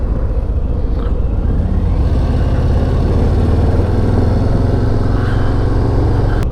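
A 2022 Harley-Davidson Low Rider ST motorcycle on a ride, its engine giving a loud, steady, deep rumble up close for the whole stretch, with wind noise over it.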